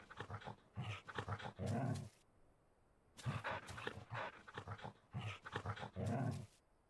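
Torgal, a wolf companion in the video game Final Fantasy XIV, gives three loud grumbling bursts, each a run of short growly pulses rising into a longer low groan, with quiet gaps between them.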